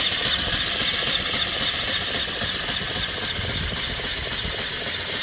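A vertical steam engine with a flyball governor runs steadily, its even mechanical chugging and hiss continuous and close with no talk over it.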